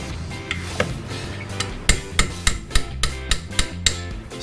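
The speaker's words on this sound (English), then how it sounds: "Every time I tapped it to put the screwdriver back in, it pushed it back in." A hammer tapping a screwdriver on a 1995 LT1 Corvette water pump, a steady series of about a dozen sharp metallic knocks, close and loud, speeding into an even rhythm.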